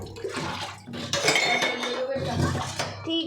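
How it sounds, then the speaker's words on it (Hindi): A drinking glass being washed in a kitchen, with dishes and cutlery clinking and knocking together over running water, steady and close throughout. "मैं तो गिलास भी धो दूंगा साथ के साथ। पानी का गिलास"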